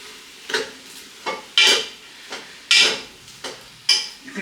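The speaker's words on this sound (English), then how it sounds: "Stir it around here. Stir it up." Garlic shrimp and asparagus sizzle in a pan while being stirred, with a steady frying hiss broken by repeated scraping and clinking strokes of a utensil against the pan.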